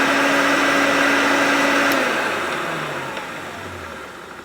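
Hoover Turbopower Junior U1100 vacuum cleaner runs with a loud steady whine, then switches off and winds down over the last couple of seconds.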